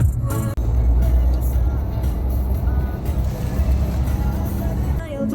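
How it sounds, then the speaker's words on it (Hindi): Dense road traffic idling and creeping in a jam on a road trip from village to city, a steady low engine rumble from cars, trucks and buses with faint beeps, continuous and close throughout. "ये फिर से जैम रास्ते में मिला। और ये एक और बार जैम।"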